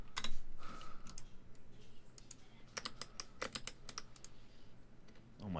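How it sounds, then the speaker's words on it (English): Rapid keystrokes on an M65 mechanical keyboard with Fox Navy switches make close, crisp clacks in irregular bursts with short pauses and no talking. "Huey, what are you typing on? My M65 with Fox Navies"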